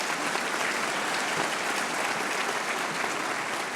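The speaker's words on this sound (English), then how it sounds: "Please give this group a warm round of applause." A dense crowd at a scholarship reception applauds, a uniform, sustained roar of many hands clapping at once with no voices rising above it.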